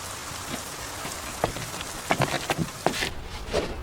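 Steady rain pours down outdoors, a dense hiss of falling water with scattered individual drops pattering close by.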